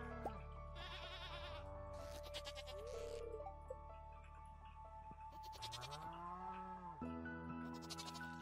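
Goats bleat repeatedly in the farming video game Stardew Valley, several short, wavering cries standing out over steady game music.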